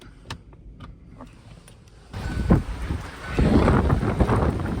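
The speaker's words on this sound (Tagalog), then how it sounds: "Naririnig niyo ba yung sobrang windy ngayon" Strong wind buffets an outdoor microphone on a dark, cloudy day in Texas. Faint rumbles and thumps at the start build into loud, continuous gusting roar from about the midpoint on.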